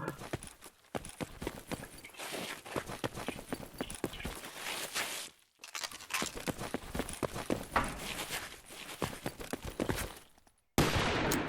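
Dense, rapid gunfire from the video game Garry's Mod, a long stream of sharp cracks and clattering shots that pauses briefly near the middle and again near the end.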